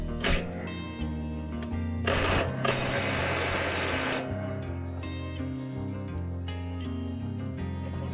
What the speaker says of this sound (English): I'm having a hard time trying to get it off even with an impact driver.